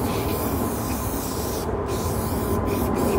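Montana Goldchrome spray paint can spraying in a steady, continuous hiss, close and fairly loud, with a couple of brief breaks near the end as the can starts to sputter; no talking.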